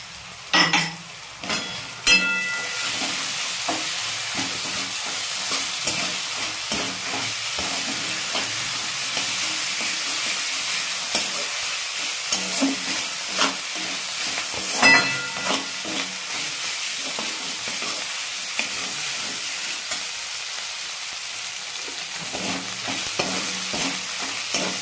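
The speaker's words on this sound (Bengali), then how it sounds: "এবার আমি আদাটা ওর সঙ্গে ভালো করে ভেজে নেব" Ginger and garlic frying in a pan, a steady close sizzle with repeated scraping and stirring strokes and occasional light clinks of the utensil, continuous through the whole stretch.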